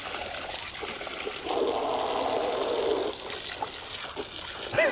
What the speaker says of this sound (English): I usually get soaked myself whenever he drinks from the hose.